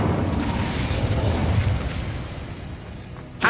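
A fire spell cast in Hogwarts Legacy gives a loud, rumbling whoosh that roars at once, fades slowly over a few seconds, then ends in a sharp crackling burst at the close.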